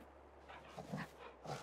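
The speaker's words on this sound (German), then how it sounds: "Ach, da ist der Hund. Hallo, Hund." A dog in the farming game Landwirtschafts-Simulator 22 gives soft whimpering yips and short low barks, two or three faint brief calls close by.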